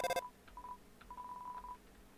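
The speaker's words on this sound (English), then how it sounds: "Toriel won't pick up the phone now." Phone call to Toriel in the Undertale video game: a quick burst of electronic dialing tones opens, followed by a string of soft, sustained beeping tones that ring out alone against a quiet background.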